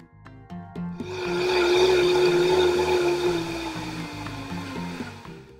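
An electric blender whirs loudly as it blends spinach, water and salt, its motor spinning up sharply to a steady roar, then holding with a slight wavering as the mixture churns.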